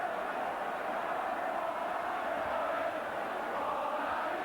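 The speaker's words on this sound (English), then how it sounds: "And here's his name echoing around the crowd at that end of the stadium" A football crowd at the Kop end of Anfield chants a player's name during Liverpool v Aston Villa in 1980, a steady, massed roar of voices that fills the whole stretch without a break.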